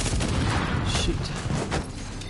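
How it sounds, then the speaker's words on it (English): A seeker mine detonates in Tom Clancy's The Division amid a firefight, a dense, close burst of booms and crackling gunfire that stays loud throughout the short stretch. "they got me with that seeker mine"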